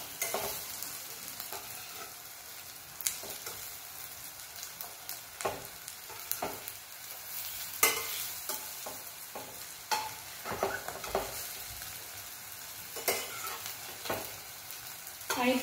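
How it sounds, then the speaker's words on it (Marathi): Sabudana and potato cutlets shallow-fry in oil in a pan, with a steady close sizzle and bubbling, broken by frequent sharp clicks and scrapes as they are moved and turned. "याला लालसर होईपर्यंत आपल्याला शॅलो फ्राय करायचे"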